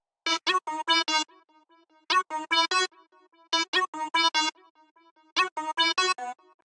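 Serum 2 synth lead with built-in LFO glitching, no added effects: four bursts of rapid stuttering buzzy notes, each a quick chopped run, separated by short gaps, loud and alone.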